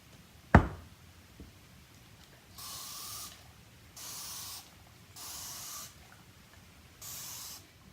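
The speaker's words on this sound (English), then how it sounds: "now I'm going to spray the top with alcohol to help prevent soda ash" Alcohol sprays from a spray bottle onto the top of a fresh batch of patchouli soap in four even, near hissing bursts, preceded by a single sharp knock.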